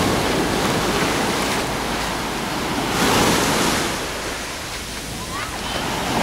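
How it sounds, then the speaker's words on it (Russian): Small sea waves on Alanya beach, a steady broadband wash of surf with a gentle swell in the middle, close and continuous, with wind rumble on the microphone. "Волночки-то есть."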